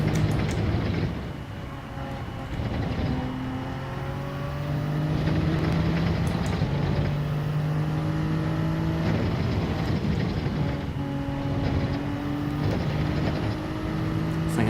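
A race car engine drones and shifts pitch in the Gran Turismo 7 video game at the Red Bull Ring, loud and steady throughout as the car accelerates uphill, with no voices over it.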